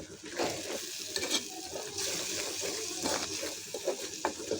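Shrimp frying in a pan with salt added, a steady broadband sizzle with scattered crackles and brief bursts, close and continuous throughout with no talking.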